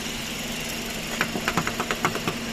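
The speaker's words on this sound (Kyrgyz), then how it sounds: "Учурда кондиционер иштеп турат." Engine bay of a 2015 Hyundai Solaris 1.6 automatic idling with the air conditioner running, a steady mechanical hum joined midway by a rhythmic series of light ticking knocks.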